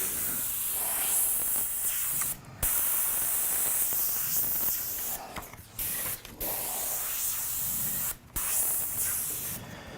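An airbrush sprays paint in flood strokes in a string of steady hissing bursts. Several short pauses break them up where the trigger is released.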